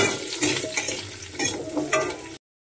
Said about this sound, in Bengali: আলুগুলোকে একটু মিনিট দিয়ে ভালো করে ভেজে নেব